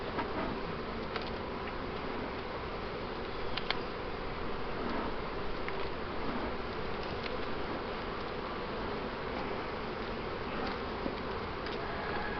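Honey bees buzz steadily and densely around an open hive during a split, with no queen found on the frame, a continuous close swarm-like hum throughout with no talking.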